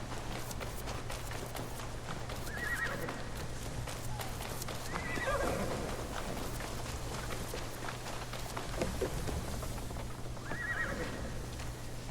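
A horse in the Assassin's Creed Shadows video game whinnies several times while its hooves clip-clop steadily, faint and moderately distant over a low constant hum of game ambience.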